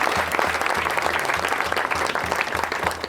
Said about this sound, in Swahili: Watu wao wote kwa jumla tuwapige makofi.